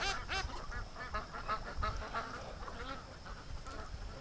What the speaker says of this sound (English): the ducks are doing the hang around the shoreline predator situation